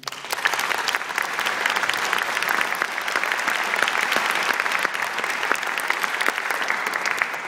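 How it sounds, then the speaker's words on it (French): An audience at a video game orchestra concert in Montréal applauds continuously, dense hall-filling clapping that holds at an even level throughout. "C'est le temps d'applaudir."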